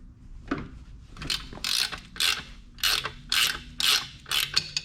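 A ratchet loosens a bolt on a Mercury 75-115 HP outboard motor during a 300-hour service, clicking close and loud in about eight quick bursts of rapid ratcheting.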